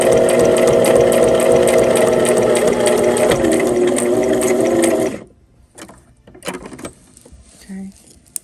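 A sewing machine stitches a fabric pot holder, running steadily and loudly up close for about five seconds before stopping, followed by quieter handling noises and a small click.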